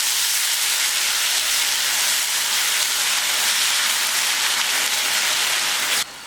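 Blended tomato puree hitting a hot pan of garlic and ginger, a loud, dense hiss and sizzle that holds steady, then cuts off abruptly near the end.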